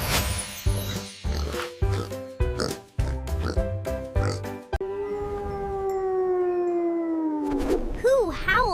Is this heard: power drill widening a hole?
no